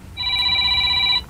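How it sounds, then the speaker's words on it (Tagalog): A mobile phone rings with a steady electronic tone that holds continuously for about a second, loud and close, with no talk over it. "Ah, ti cellphone ko. Agri-ring."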